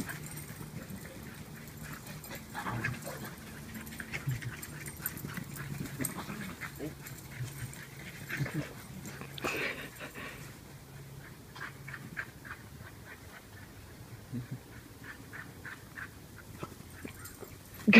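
A dog runs around a backyard, panting quickly and whimpering with small yips, fairly close but soft, for about eighteen seconds.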